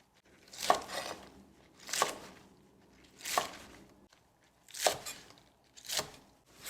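A knife cuts thin green onions into 3 cm lengths on a board, five crisp, evenly spaced chops about a second apart, close up and quiet, with no talking.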